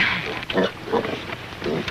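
Pigs on a Virginia farm grunting and oinking in several short bursts, moderately close, with low rustling between calls.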